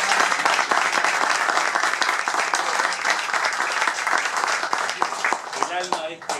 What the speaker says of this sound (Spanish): Por favor, un aplauso para los mozos.